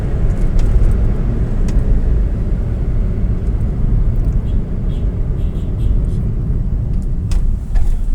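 A car speeding along a city avenue in Dhaka, with a loud, continuous low road rumble and engine drone heard from inside the vehicle.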